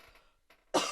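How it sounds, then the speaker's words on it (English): A single sharp cough from a person with a stuffy cold bursts out loud and close at the end, preceded by faint soft breathing and sniffing. "I apologize for coughing and sniffing."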